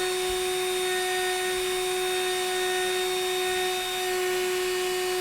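A CNC router spindle running at high speed, around 15,000 RPM, while it cuts a wooden wine caddy: a loud, steady, high-pitched whine with a constant drone and no breaks.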